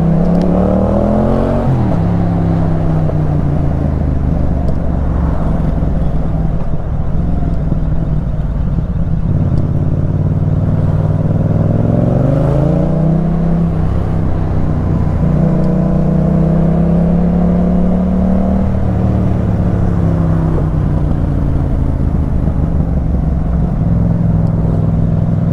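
A 2019 Yamaha MT-07 motorcycle accelerating hard, its engine rising in pitch through several gear changes with drops between, loud and close with heavy wind rush throughout.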